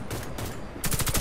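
Gunfire in the video game Warface, quick bursts of sharp shots in rapid succession, a lighter burst followed by a louder, denser volley near the end.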